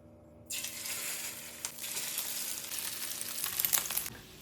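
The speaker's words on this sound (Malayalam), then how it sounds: "ഒരു പാന് ചൂടാകുമ്പോൾ അതിലോട്ട് കുറച്ച് ഓയിൽ വെച്ചിട്ടുണ്ട് ഇനി നമുക്ക് ഓരോന്നായിട്ട് ഇട്ട് കൊടുക്കാം" Pieces sizzle and fry in hot oil in a pan, a steady hissing crackle that starts abruptly and swells slightly louder toward the end, heard alone with no voices.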